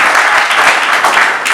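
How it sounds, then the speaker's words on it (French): Guests at an official wedding ceremony applaud loudly and continuously, a thick, close wash of many hands clapping with no break. "Applaudissons très fort pour l'homme"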